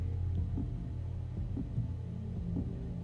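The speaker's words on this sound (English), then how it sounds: "Why the heartbeat?" A heartbeat sound effect from the Mass Effect 2 video game thumps in a steady, slow rhythm of paired beats over a low droning hum, with no talking.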